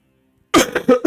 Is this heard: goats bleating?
no